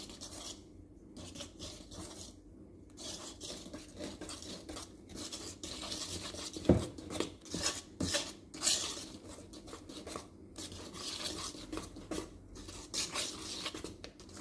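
Chocolate fudge cupcake batter being stirred to remove lumps, a soft, continuous rasping and rubbing of a spoon in a bowl, with occasional sharper taps and scrapes, fairly close and moderately quiet.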